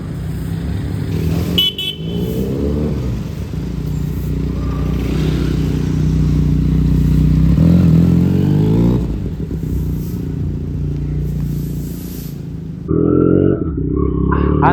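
An early-morning motorcycle ride toward an eco village in Palghar, with a steady engine drone and road rumble that swells and fades as traffic passes close by, and a couple of short horn toots near the start and end.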